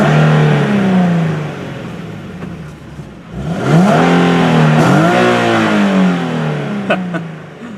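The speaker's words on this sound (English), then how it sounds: "V6 roars to life, and as soon as this truck goes by, I'll let you hear it." A 2013 Nissan 370Z with a 3.7-liter V6 and stock exhaust revs loudly up close, rising and falling through several sharp engine sweeps over a steady idle rumble, with no talking.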